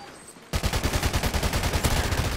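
Rapid sustained burst of Ripper SMG gunfire in Call of Duty Ghosts on Xbox One, starting abruptly after a quiet moment and running as an evenly spaced, fast, loud stream of shots.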